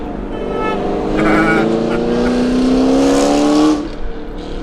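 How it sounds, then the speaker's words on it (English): Cars with loud exhausts accelerate ahead of a Rolls-Royce Ghost, a rising engine drone building and then cutting off, with voices talking over the sound. "all we gotta do is drive behind these guys, and it makes the Ghost here sound like it's really got a loud exhaust on it"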